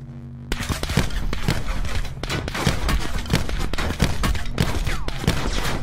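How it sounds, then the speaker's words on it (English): Dense, loud gunfire in Call of Duty: Black Ops 4 Blackout, rapid overlapping shots and bursts sounding almost nonstop. "you can keep firing at me"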